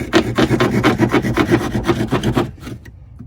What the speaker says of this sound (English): These little sheetrock saws by Milwaukee, they're pretty awesome.